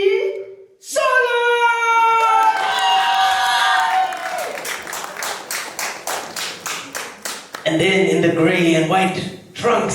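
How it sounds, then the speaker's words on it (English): Audience at a Zambian community celebration event claps and cheers loudly as a boxer is introduced, a dense burst of applause and whoops, with an announcer's amplified voice speaking over and between the clapping. "please could we give a big round of applause"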